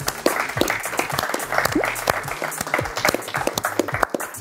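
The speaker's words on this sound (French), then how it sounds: "On peut l'applaudir." Sustained applause from a studio group greeting a surprise guest on a French game show, dense clapping with a few voices underneath.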